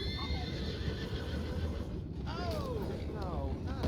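Horses in Red Dead Redemption 2 whinny several times, with shrill descending neighs cutting through steady hoof clip-clop and background ambience, and a voice speaking briefly.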